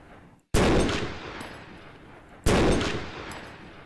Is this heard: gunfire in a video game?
yes